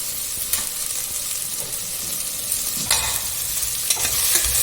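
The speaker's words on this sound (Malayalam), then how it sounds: "രണ്ട് ഉരുളക്കിഴങ്ങാണിത് അത് മുറിച്ചിട്ട് ഞാൻ ഇടുന്നുണ്ട് ഇതും ഒന്ന് ചെറുങ്ങനെ കാട്ടിയിട്ട് കുറച്ച് ഉപ്പിടട്ടെ" Cut potato pieces sizzle in a hot pan while being cooked for a stew, a steady close frying hiss broken by a few louder bursts of stirring and scraping, with no voices.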